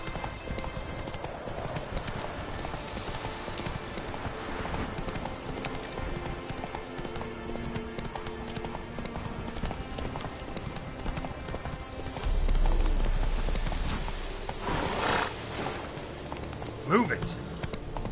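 Hooves of Roach, a horse in The Witcher 3: Wild Hunt, clip-clop in a fast continuous rhythm throughout, close and steady, with game ambience and a rider's voice over the gallop.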